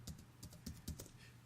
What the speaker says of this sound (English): Typing stuff.